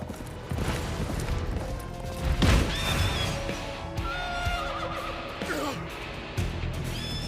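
A horse neighs and whinnies loudly amid game combat with crashing impacts and clattering hooves, the calls rising and falling over a busy, close mix.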